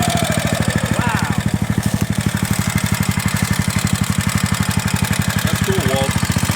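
Mini dirt bike engine idling close by, a steady rapid putter with even pulses throughout, while voices talk briefly over it.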